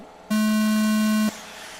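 A single loud electronic race-start buzzer tone sounds for about a second, steady and harsh with a strong low pitch, then cuts off abruptly over background noise.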